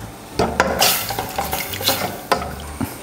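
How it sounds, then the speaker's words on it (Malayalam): Vegetable stock stirred in a pot for a vegetable chowder soup, with brisk clattering strokes of a utensil against the pot and wet swishing between them, close and fairly loud, no speech. "ഇനി നമുക്ക് നമ്മുടെ വെജിറ്റബിൾ സ്റ്റോക്ക് ഇതിനകത്തേക്ക് ചേർത്ത് കൊടുക്കാം."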